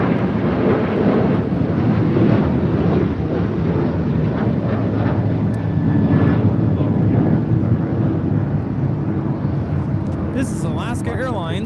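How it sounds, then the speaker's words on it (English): An Alaska Airlines Boeing 737-800 taking off from LAX produces a sustained jet roar with wind buffeting, while people talk over it and a brief clattering burst comes near the end. "This is Alaska Airlines Flight 310 taking off to Washington Dulles on a 737-800."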